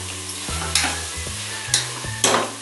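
Chicken pasta ingredients with tomato and coriander being stirred in a pan, a spoon scraping and knocking in a few distinct strokes over a steady low sizzle, close and alone.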